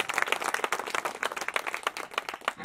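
An audience at a kirtan claps together in a lively burst of applause, many hands producing dense, fluttering claps that rise and fall for a few seconds with no voices over them.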